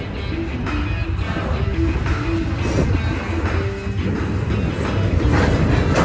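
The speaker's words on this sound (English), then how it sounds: "We got a train coming" Train passing close by outdoors, a loud continuous rumble with rolling mechanical rattle that stays steady throughout with no talk.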